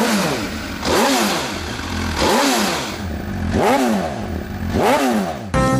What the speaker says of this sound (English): The aggressively high-revving 4-cylinder of the F4 Ego makes a solid 170 horsepower.